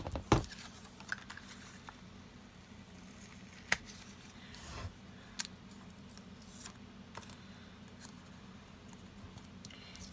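Paper pieces for a junk journal are cut out with scissors, giving faint, scattered snips and small clicks close by, with one sharper tap near the start and quiet gaps between.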